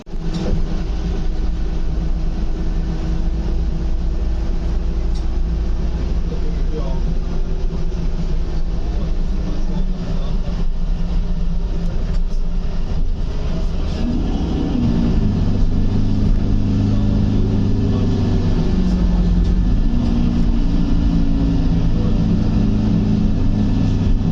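Steady low engine rumble and road vibration from inside a moving bus, continuous throughout and swelling slightly partway through, with no voices.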